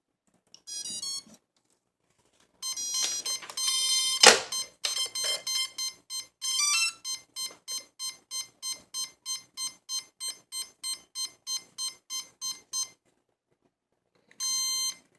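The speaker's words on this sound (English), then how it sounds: "So if one of your motor keeps beeping" A CX20 drone motor beeps because its wires are not pushed in properly: rapid electronic beeps in bursts, then a long steady run of evenly spaced high beeps, with a brief final burst after a pause.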